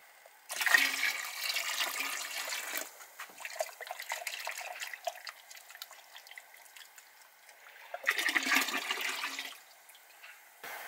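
Molasses-boiled water poured into a Dutch oven for brewing beer, two bursts of splashing, gushing liquid separated by quieter trickling and dripping, close and clear with no talking.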